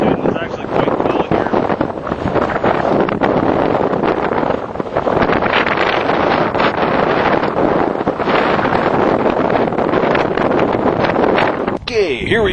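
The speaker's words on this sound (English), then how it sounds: "you can hear this because it's gale force winds, but here I am at Meteor Crater" Gale force wind buffets a microphone at Meteor Crater, a loud, continuous roaring rush with gusting surges that fill the whole clip and nearly drown out everything else.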